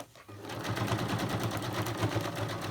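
A sewing machine runs steadily, stitching a line through fabric while making a decorated Christmas folder with a gift pouch. The motor hums close and continuous with a rapid, even needle rhythm, briefly starting up and then carrying on alone with no talk.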